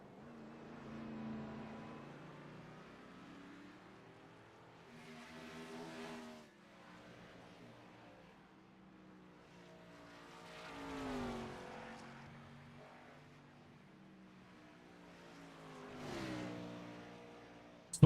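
Gen 4 RC race cars buzz around a track in repeated passes, each high-pitched motor whine swelling loudly as a car goes by and fading away, roughly every five seconds.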